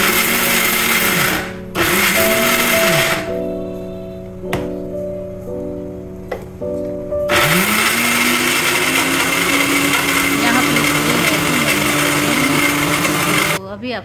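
A kitchen mixer grinder whirs loudly, grinding green chilli, salt and water into a chutney for idli; the motor runs in steady bursts with brief pauses and a settling whine, alongside a voice in the background.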